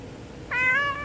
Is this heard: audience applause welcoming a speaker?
no